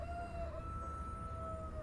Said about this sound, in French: Un coq chante